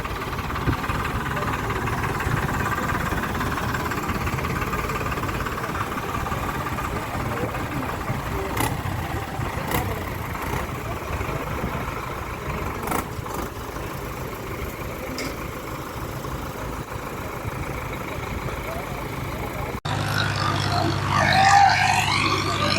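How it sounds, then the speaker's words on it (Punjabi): Three tractor engines rumble steadily at a distance under a constant broad hum, with a few sharp clicks and faint voices partway through. "ਦੇਖੋ ਜੀ ਤਿੰਨ ਟਰੈਕਟਰ ਚੱਲ ਰਹੇ ਆ"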